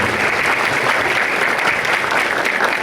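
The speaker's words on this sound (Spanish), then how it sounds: "les pido un fuerte aplauso para ellos" A seated audience gives steady, dense applause for a panel of speakers at a digital customer-experience technology talk, an even wash of clapping throughout with no break.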